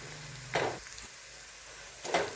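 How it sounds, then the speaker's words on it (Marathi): Ground masala paste fries with onions in a pan, a quiet steady sizzle broken by two brief bursts of stirring scrapes. "हे परतून घ्यायचं कारण आता हे कच्चं वाटण आहे"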